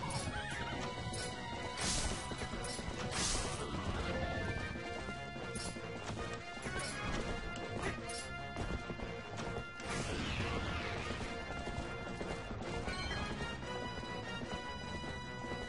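Horse in the Zelda: Twilight Princess video game, with steady galloping hoofbeats, repeated neighs and whinnies, and occasional crashing impacts, loud and continuous over game music and effects.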